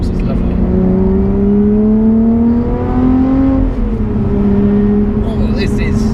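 A Lotus Evora sports car accelerates on a wet road, its engine note rising loud and close through a gear change and then climbing again, with the driver speaking over it.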